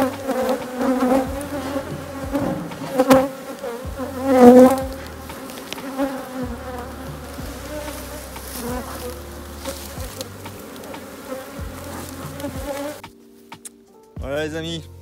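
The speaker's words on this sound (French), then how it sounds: "ça c'était l'essaim qui avait essaimé, c'est-à-dire qui était sorti de ma première ruche" A honeybee swarm that left a first hive buzzes around the beehive, a close, continuous droning hum of many bees with individual bees passing louder near the start, alone without talk.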